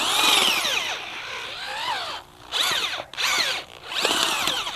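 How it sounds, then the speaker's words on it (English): Power drill boring a planting hole in garden soil for tomatoes, loud whining bursts that rise and fall in pitch as the bit bogs and frees, with short pauses between runs. "I'm not just drilling a hole straight down"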